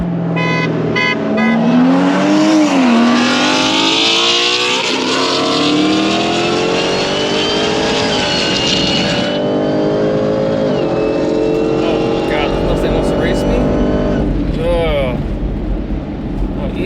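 A Dodge Hellcat races a BMW M340i xDrive and a full bolt-on Mustang with a built transmission, its engine roaring loud and close and climbing in pitch through repeated gear pulls, with voices talking over it.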